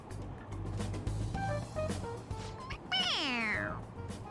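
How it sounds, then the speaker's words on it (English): A toy cat meows when its head is pressed in the video game Persona 5 Royal; a clear, rising-then-falling meow sounds near the end, preceded by a soft short mew over a low game background hum. "It meows when you press on its head."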